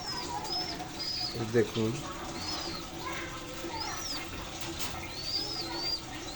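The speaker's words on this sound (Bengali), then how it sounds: "আমার কবুতরগুলি" Pet pigeons coo softly in a continuous backdrop, with brief wing flaps and someone speaking briefly over them.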